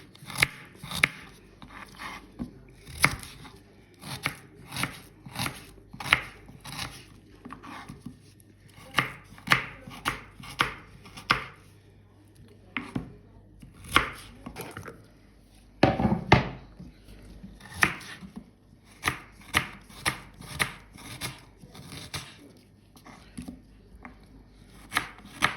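A knife chops onion on a board in quick, uneven bursts of sharp taps, some clustered and some spaced apart, up close, with no voices and a few brief pauses.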